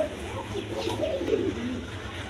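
Pigeons kept in a loft coo softly and continuously at close range, low throaty murmurs layered over a light background hum.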